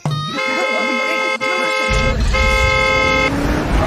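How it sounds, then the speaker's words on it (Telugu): A car horn sounds close and loud in two long sustained blasts, separated by a short break, over low engine rumble at the gate of a house. "ఈ రోజు హార్న్ కొట్టి లోపలికి వచ్చింది"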